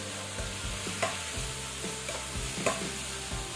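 Tomatoes cooking down in a pot for tuna head soup: a continuous sizzle with a few sharp stirring scrapes and utensil knocks at intervals, fairly close and with no talking.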